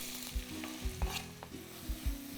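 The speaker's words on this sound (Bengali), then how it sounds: "এবার গ্যাসের ফ্লেমটাকে হাই করে আপনারা ভালো করে পেঁয়াজটাকে ভেজে নিন" Finely chopped onions fry in oil with whole cumin and two dried red chillies over a high flame, a steady close sizzle punctuated by several rhythmic spatula thumps and scrapes against the pan.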